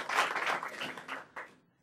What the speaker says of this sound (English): I don't need applause.